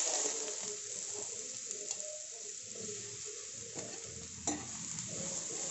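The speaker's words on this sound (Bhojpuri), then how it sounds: "घी में कम से कम 5 मिनट भून लेवल जाए खूब बढ़िया।" Bottle gourd fries in about three spoonfuls of ghee, a steady close sizzle with scraping, clattering stirring strokes and a sharper knock near the end.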